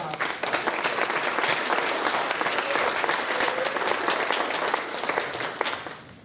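An audience at an annual meeting applauds high school students after their Les Mis performance, with dense sustained clapping from a full room that holds steady and fades slightly at the close.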